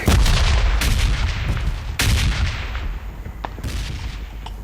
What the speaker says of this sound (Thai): มันมีคนยิง